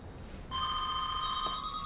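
An office phone starts ringing abruptly after a moment of low background hum, giving a bright, sustained electronic ring that holds steady to the end.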